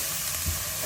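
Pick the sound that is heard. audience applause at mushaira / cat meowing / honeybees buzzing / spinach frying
spinach frying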